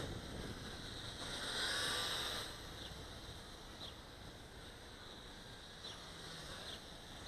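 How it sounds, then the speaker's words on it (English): Wind gusting outdoors during a toy drone flight, a steady broadband rush that swells briefly and then settles into a constant blustery roar, with a few faint ticks underneath. "Wind just kicked up."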